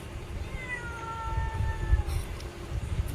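A cat meows nearby in one drawn-out call, clear and fairly loud over a rumbling background of household noise, followed by faint knocks.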